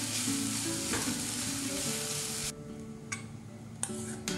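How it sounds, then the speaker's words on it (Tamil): Ingredients sautéing in ghee in a pan while making rice flakes puttu, a steady close sizzle that drops off halfway, followed by a few soft ticks and stirring clicks. "அதையும் நெய்யில் கொஞ்சம் வதக்கி விட்டுக்கலாம்."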